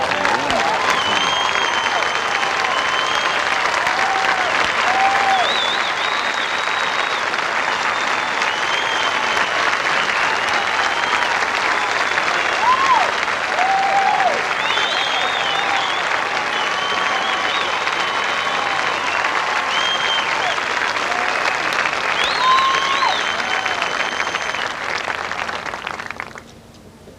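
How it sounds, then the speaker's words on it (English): A large golf gallery applauds at the final round of the 1992 U.S. Women's Open at Oakmont, with loud, sustained, even clapping and crowd noise for nearly half a minute before it fades out. "That applause is really for all the women who've competed here."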